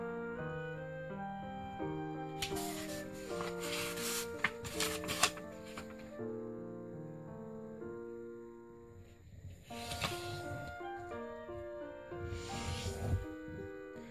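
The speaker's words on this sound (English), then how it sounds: "I will fold the paper in half horizontally" US letter printing paper is folded in half for a paper airplane, with crisp rustling and creasing swipes under steady background music.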